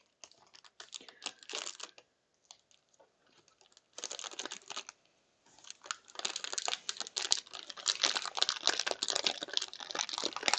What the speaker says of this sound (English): Kat, you're crinkling a lot.